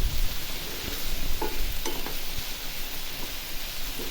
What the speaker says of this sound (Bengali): এখন আমি সিমের বীজটা দিয়ে দেবো।